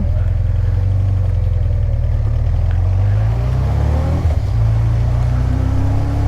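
A motorbike carrying two riders on a road in Corsica pulls away, its mid-pitched engine loud and close as it rises and shifts through revs, with steady road and wind noise continuing throughout.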